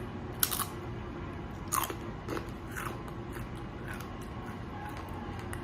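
Homemade tortilla chips, air-fried with avocado oil and salt until brown and crisp, crunched in a few sharp, close bites followed by softer chewing.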